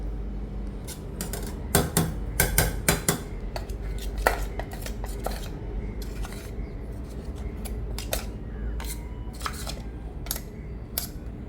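Ground rice going into a metal vessel, with irregular metallic clinks, taps and scrapes of a utensil against the pot, close by and without talking.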